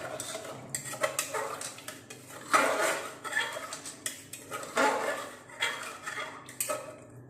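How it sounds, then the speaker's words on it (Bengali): A zero-oil ghugni being stirred in a pot after water is added, with repeated scraping and clinking of a spoon against the metal, close and fairly loud in an uneven rhythm. "আবার একটু নেড়ে দিচ্ছি।"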